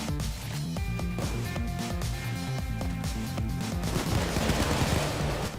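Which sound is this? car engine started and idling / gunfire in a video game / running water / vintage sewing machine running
gunfire in a video game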